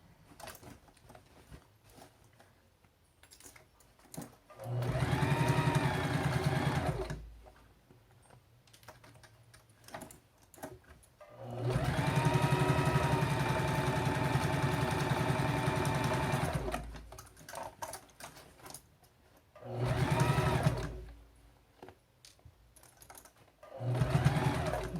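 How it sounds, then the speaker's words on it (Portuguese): Sewing machine stitching a drawstring organizer pouch, running in several steady whirring bursts of a few seconds each, separated by quiet pauses filled with small clicks and handling of fabric, close and clear with no talking. "vou de fora a fora agora costurando"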